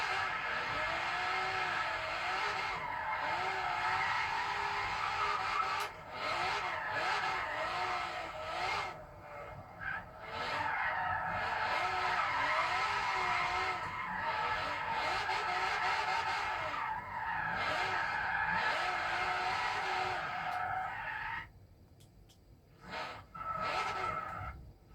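A drift car in Forza Horizon 3 slides through corners with long, continuous tire squeal and skidding over a revving engine, loud and sustained, easing off briefly near the end.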